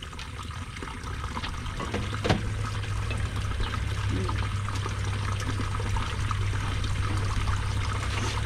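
Water pours in a steady, continuous stream as vegetables are rinsed outdoors on a farm while breakfast is being prepared, with the flow holding at an even volume throughout and a faint tap partway through.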